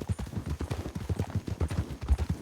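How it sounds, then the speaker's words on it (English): Hoofbeats of a young horse in a western-style video game, a steady clip-clop rhythm of repeated thuds, close and fairly loud, with no voices over it. "This horse right here is still young."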